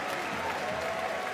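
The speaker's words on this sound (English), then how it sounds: "And here's the applause." A basketball crowd at a FIBA EuroBasket 2022 game between Slovenia and Belgium applauds, a steady, distant wash of clapping and crowd noise that holds evenly throughout.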